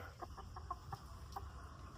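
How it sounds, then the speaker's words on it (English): Chickens cluck in short, soft bursts, several quick calls spaced across a couple of seconds, faint and fairly close against a quiet background with no talk. "Talking to chickens again."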